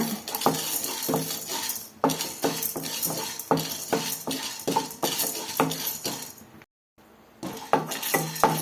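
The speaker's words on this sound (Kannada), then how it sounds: "ಕಡಿಮೆ ಉರಿಯಲ್ಲಿ ಹುರ್ಕೊಳ್ಳೋಣ" Chana dal and urad dal roast in a pan over a low flame, with repeated scraping and clinking of a spoon against the metal pan in an uneven rhythm and a faint sizzle beneath.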